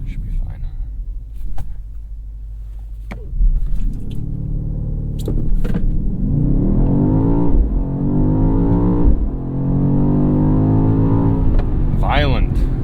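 A 2023 BMW XM hybrid with a 4.4-litre engine launches hard from a standstill: a deep idle rumble swells into a loud, rising engine roar through successive gear changes, close and continuous, with brief speech at the start.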